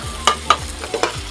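Spoon scraping and stirring sautéed corn in a pan, a few distinct clinks and scrapes spaced across a short stretch over a faint background sizzle.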